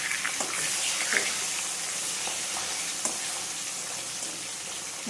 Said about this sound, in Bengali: এটা মাছগুলো আগে ভেজে নিচ্ছি